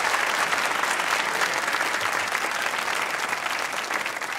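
Loud, dense applause from a TV comedy show studio audience, continuous clapping throughout with no pauses.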